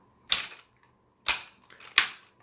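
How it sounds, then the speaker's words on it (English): Ratchet joints on a Supreme Class Cybertron Starscream Transformers action figure clicking sharply, three loud close snapping bursts with short gaps between, alone in a quiet room. "he still has some really tight, really strong ratchet joints there"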